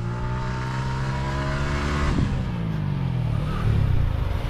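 A motorbike engine revs hard and holds at a high pitch while the rider pulls a running wheelie, the loud roar rising and falling close by with no talk over it.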